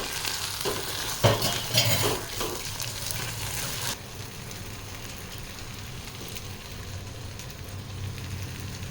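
Bombay duck fish mash is stirred and mixed in a pan, with scraping spatula strokes and a soft sizzle that are busy and close for a few seconds, then settle into a quieter steady frying hiss.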